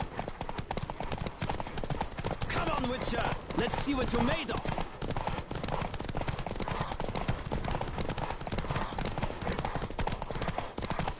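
Galloping horse hooves drum in a fast, steady clip-clop during a horse race in the video game Witcher 3, loud and continuous, with someone speaking over the hoofbeats.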